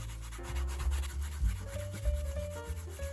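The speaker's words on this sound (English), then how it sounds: "Then varnish with canvas cloth." Canvas cloth rubs briskly along leather edges on a leather glasses case, producing a close, soft rhythmic friction sound under a low background hum.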